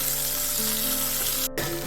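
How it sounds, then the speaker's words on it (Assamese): Fish heads frying in hot mustard oil give off a steady, close crackling sizzle that continues without a break. A short clatter near the end briefly cuts into it. "মাছটো আমি মিঠাতেলতেই ভাজিম, তেতিয়া সোৱাদটো বেছি ভাল হয়"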